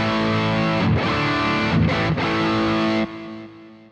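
Electric guitar played through a Boss GT-1000 Core compressor with the direct mix blended in, sustained chords with a few choppy restrikes, then ringing out and fading near the end, loud with no talking.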